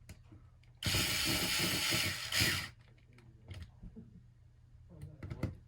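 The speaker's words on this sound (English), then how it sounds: "Then we can tighten these button heads that's holding the spur to the spur." A power driver whirs in a sustained burst for about two seconds as button head screws are tightened onto an RC drift car's spur gear, followed by quieter clicks and handling taps of small parts up close.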